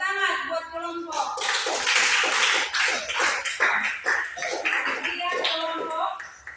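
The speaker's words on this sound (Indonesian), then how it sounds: "Tepuk tangan buat kelompok" A classroom group receives a round of hand clapping after presenting, brisk irregular claps building quickly and continuing with varying density, close and fairly loud, a teacher's voice heard briefly at the start.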